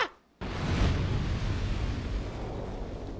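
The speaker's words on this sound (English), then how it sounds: "That was a weak explosion." A weak in-game explosion in Dark Souls 2 bursts in after a brief silence, then a dense rumbling roar trails off over a few seconds.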